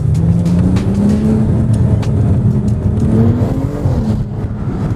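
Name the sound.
BMW 335i accelerating hard, turbo audible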